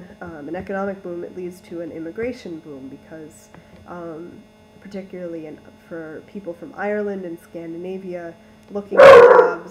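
A dog barks loudly once or twice close by near the end, after steady lecture-style talk about economic history, with a faint mains hum running underneath throughout.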